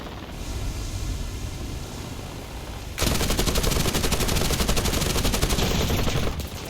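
Aircraft machine guns fire in the War Thunder flight game: a hissing engine drone, then a loud, sustained rapid burst of gunfire for several seconds before it cuts off.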